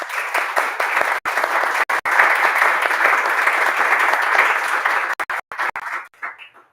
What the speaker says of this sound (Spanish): Les pedimos un fuerte aplauso para ellos